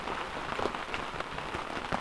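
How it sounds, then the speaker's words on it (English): Steady rain drums on the canvas of a hot tent pitched outdoors, a dense, continuous patter of close drops with scattered sharper hits, no voices over it. "Now it's just raining."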